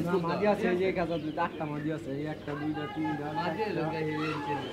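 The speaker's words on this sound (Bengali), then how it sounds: "বন্ধুরা, দেখতে পাচ্ছেন এখানে খামারি ভাইয়ারা 2 খাঁচা কবুতর নিয়ে আসছেন।" Caged pigeons brought by farmers to the Sarulia pigeon market in Bangladesh coo in soft repeated phrases, mixed with the close chatter of people talking at the busy market.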